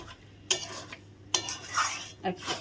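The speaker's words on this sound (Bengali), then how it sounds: "এখন ভালো করে নেড়ে দেবো ভালো করে নাড়ে চেড়ে" Chicken curry stirred in a metal pan with a spoon, a few sharp clanking scrapes against the pan between softer shuffling stirs over a faint sizzle, close by and with no voices.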